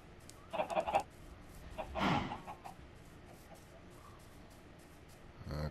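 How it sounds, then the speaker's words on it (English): Minecraft chickens cluck in short bursts, a couple of near, moderately loud calls over a quiet game background. "Got chickens."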